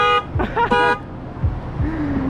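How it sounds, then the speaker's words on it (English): A car alarm or horn blares in short repeated honks, loud and close, then cuts off, leaving outdoor engine rumble and a faint passing tone, at a Ford Raptor drag race meet. "He set off my car alarm just now."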